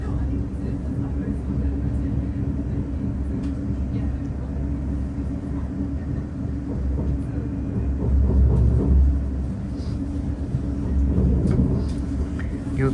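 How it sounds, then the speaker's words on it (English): A train rumbles steadily while slowing into Bescot Stadium station near Walsall, with a continuous low roar and rattling heard from inside that swells briefly near the end. A person speaks over it. "And we're now arriving into Bescot Stadium."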